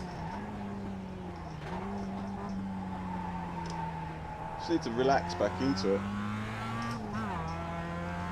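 Race car engine in the iRacing sim holds a steady droning note with shifts in pitch as it accelerates and lifts, plus brief tire squeal bursts midway, under a man's calm speech.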